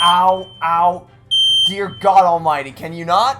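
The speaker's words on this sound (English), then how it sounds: "that would be the smoke detector having a seizure." Malfunctioning smoke detector chirping in short high beeps between bursts of pained, exasperated speech, loud and close indoors.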